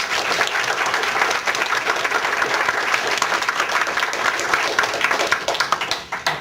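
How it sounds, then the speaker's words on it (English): Audience at a youth leadership forum gives its interpreters a round of applause, dense and continuous clapping at steady loudness throughout, fading slightly near the end. "we should give them a round of applause"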